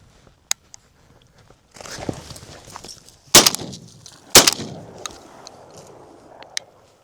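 Shotgun blasts while bird hunting over pointing dogs, two loud sharp close reports a second apart amid rustling brush and footsteps, with a couple of faint clicks beforehand.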